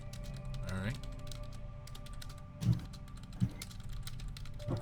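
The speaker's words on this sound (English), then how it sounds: "I'm just typing it in chat." Typing on a computer keyboard in bursts of quick, close clicks and clacks, with a voice speaking over and between the keystrokes.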